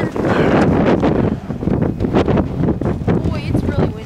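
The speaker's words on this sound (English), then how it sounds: "Boy, it's really windy." Strong wind gusts roar across an icy, frozen landscape with rocks, buffeting the microphone loudly and continuously with rumbling low blasts.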